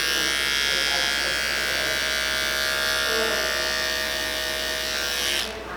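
An electric hair clipper fitted with a 000 detachable blade buzzes steadily through a fade, a close, even motor drone that holds for several seconds before cutting off abruptly.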